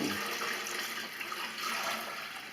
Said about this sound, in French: on renverse de l'eau dans le bac de façon à noyer le moulin à eau